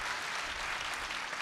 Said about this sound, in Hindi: आप सभी से चाहूँगा कि एक बार ज़ोरदार तालियाँ उनके लिए जो अपने सपने को